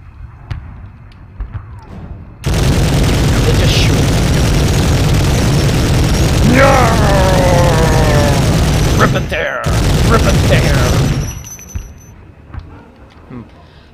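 Sustained automatic gunfire in Medal of Honor on the PS1, a dense loud rattle lasting about nine seconds with a brief break near the end, with shouted voices and electronic tones layered over the barrage.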